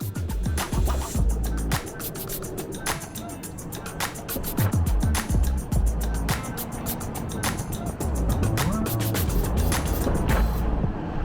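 Off-road vehicle driving the Rimrocker trail across a mesa top, engine rumbling steadily under continuous crunching and clattering of tires over rocky ground, with frequent sharp knocks and bangs throughout, close and fairly loud.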